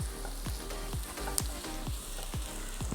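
Spices with a tablespoon of turmeric sizzling in a pan for a kalanchi fish head curry, stirred in regular scraping strokes about twice a second over a constant close frying hiss.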